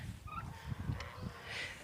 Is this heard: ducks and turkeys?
yes